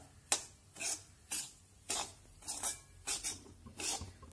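Semolina (rava) stirred and dry-roasted over low heat in a pan for coconut rava ladoo, a spoon scraping the pan in about eight regular strokes with gritty rasping, close and steady, no talking.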